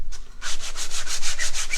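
Wood being sanded in a wood shop, a steady run of rhythmic back-and-forth scratchy strokes, close and fairly loud, about ten even passes with no talk.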